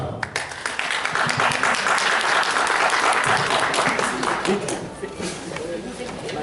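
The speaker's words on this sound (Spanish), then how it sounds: "La recibimos con un fuerte aplauso." An audience greets a speaker at an academic philosophy talk with strong applause that swells quickly, holds thick and steady, then thins toward the end amid a few voices.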